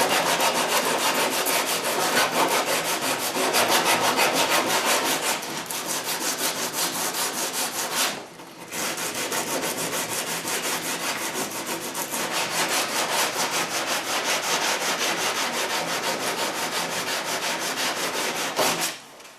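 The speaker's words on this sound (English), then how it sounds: "I think it's down to the point where it's sandpaper only now." Wood being hand-sanded with sandpaper, a steady close rasping stroke rhythm going on with one short pause partway through, loud and continuous with no talking.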